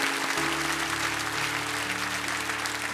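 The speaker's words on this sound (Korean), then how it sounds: "우리 다시 한번 귀한 나연 자매 큰 박수로 축복합니다." A church congregation applauds warmly for a sister during a worship service, a steady wash of clapping from many hands filling the hall with a sustained low hum beneath it.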